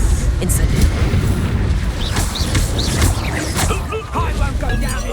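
An Incendio fire spell cast during combat in the video game Hogwarts Legacy: loud rumbling bursts and whooshes layered with short chirping magical effects in a dense, busy battle mix.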